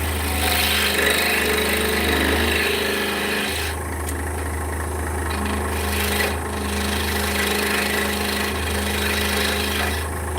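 A saw cuts steadily through wood in a workshop, giving off a continuous close grinding rasp over a low motor hum, with brief dips in pitch as the cut loads and eases.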